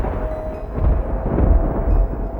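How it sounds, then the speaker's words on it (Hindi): Low rolling thunder from a storm rumbles in a deep, sustained swell, heavy and steady, with a faint tonal hum over it. "बादल गरज रहे हैं, बारिश थोड़ी ना हो रही है।"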